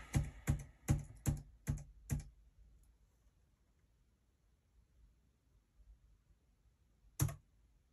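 A command being typed on a computer keyboard, six quick close clicks of keys in a row, then a pause and one final louder keystroke, with no talking.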